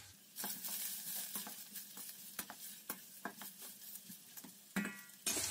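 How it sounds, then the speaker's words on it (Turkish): Fresh village peppers fry in oil with a steady sizzle, broken by repeated scraping stir strokes against the pan. "kızarmış biber kokusu oluşuncaya kadar yağda bu şekilde çeviriyorum"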